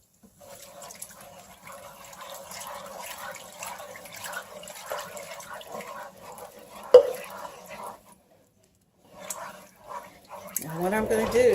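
Ice-cold water pours into a pan of gravy and is stirred with a whisk, giving a soft, intermittent liquid sloshing and splashing close by, with a person talking over it.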